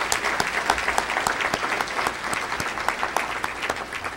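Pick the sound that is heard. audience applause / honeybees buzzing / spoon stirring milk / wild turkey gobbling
audience applause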